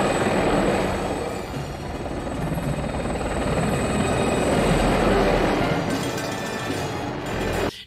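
A loud, steady helicopter drone with thumping rotor wash fills the whole stretch, close and continuous without any talking, from a film scene of helicopters flying between city buildings.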